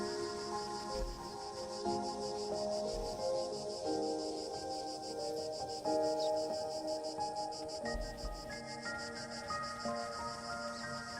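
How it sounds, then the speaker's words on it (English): Crickets chirp in a steady, fine pulsing trill that runs through the whole stretch inside the video game Indiana Jones and the Great Circle, layered with ambient jungle insects and occasional soft rustles, with no talk. "I heard a cricket."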